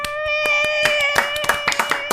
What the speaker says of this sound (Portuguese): Palmas para a lista que foi finalizada.